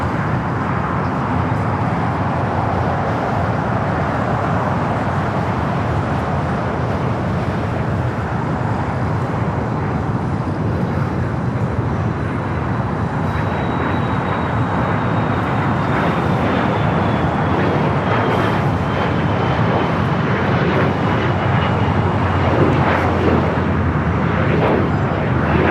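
A steady, loud engine rumble and whine comes from a Lufthansa airliner taxiing to the gates at Los Angeles airport, unbroken and with no talk.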